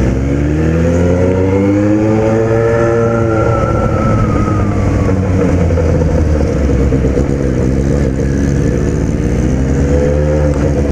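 A Yamaha XJ6 motorcycle rides along and accelerates, its loud engine note rising and falling steadily close to the microphone for about eleven seconds, with wind noise throughout and no talking.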